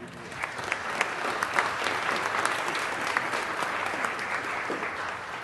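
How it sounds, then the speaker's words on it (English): A crowd at a city council special meeting gives a sustained round of applause, dense many-handed clapping that holds steady and fairly loud throughout. "Do me a favor and give yourselves a round of applause."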